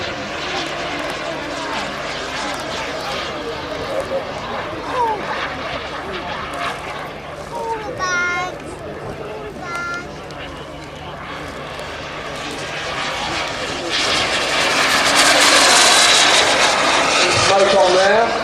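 A model aircraft at an air show drones steadily overhead, its engine rising in loudness toward the end, while a commentator talks over the sound of the crowd.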